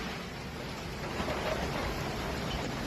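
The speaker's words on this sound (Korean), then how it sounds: "스페인 북동부에는 우박을 동반한 폭풍우가 휘몰아치며 도심이 물에 잠겼는데요" Heavy rain from a hailstorm lashing a city in northeastern Spain, a dense, continuous hiss and roar at constant loudness throughout, with no voices.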